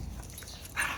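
Dogs outdoors in a brief, close moment of rustling and a soft canine whimper or vocal sound, with no speech.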